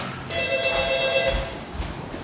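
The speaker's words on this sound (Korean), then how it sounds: "전화가 왔습니다" A telephone rings with a bright, electronic trilling tone that lasts about a second, clear over a background of room hum and light movement.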